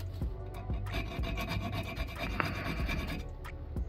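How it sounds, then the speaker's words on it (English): A hand file rasps back and forth against a knife blade, cutting decorative filework in quick, close, rhythmic strokes with light scraping clicks at each pass, quiet and without speech. "Start filing in."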